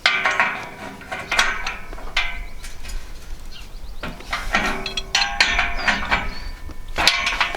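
Metal gate hinge eyes being tightened on a stone or brick wall, giving repeated close ratcheting clicks and knocks in short bursts with brief pauses between turns.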